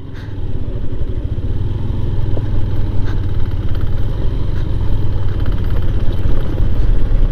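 A motorcycle engine idles steadily at a toll gate near Jhargram, a continuous low rumble with light clatter running unbroken and fairly loud from start to finish, with no voices.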